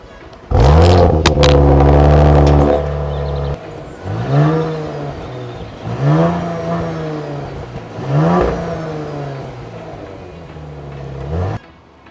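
An Audi RS5 V6 engine idles loudly, then revs hard several times in a row, each rise in pitch falling back before the next, close to the listener.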